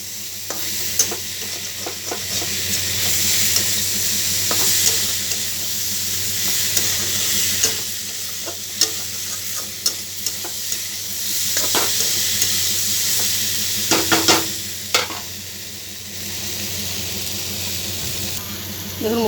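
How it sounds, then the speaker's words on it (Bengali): Pumpkin, potato and bitter gourd stir-fried over raised heat in a pan, giving a steady sizzle with repeated scraping stir strokes and spatula clicks throughout, close and fairly loud, with no talking. "এবার আঁচটাকে একটু জোর করে একটু ভাজা ভাজা করে নেব।"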